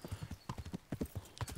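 Horse hooves clip-clopping in the medieval game Kingdom Come: Deliverance, a steady, even run of moderately loud hoofbeats heard alone without voices.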